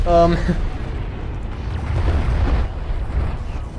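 Cruise missile exploding in the strategy game Homeworld: Deserts of Kharak, a deep rumbling blast that rolls on for several seconds beneath a short stretch of commentary at the start.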